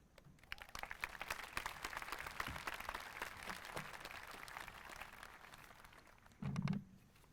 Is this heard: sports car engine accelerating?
no